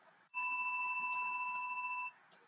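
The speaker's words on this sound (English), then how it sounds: "I will ring the bell at the end of each slide" A bell is rung once to mark the end of a slide. It gives a single bright, clear ding that sustains for nearly two seconds before cutting off in a quiet room.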